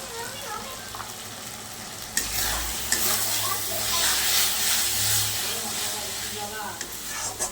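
Turmeric and chili powder frying in a pan for mint chicken, an ongoing close sizzle and hiss that swells in the middle, with occasional utensil scrapes and taps.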